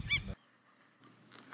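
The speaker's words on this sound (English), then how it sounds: "Birds send warnings and dive bomb as baboons near their nests." Birds on a Sabi Sands safari call out warnings as baboons near their nests, a short sharp honking cry followed by thin high whistling notes, faint and distant against quiet bush.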